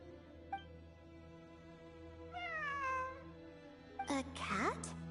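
A cat in Genshin Impact gives a short meow followed by a longer rising-and-falling meow, then a brighter, sharper cry near the end, over a steady low in-game ambient drone.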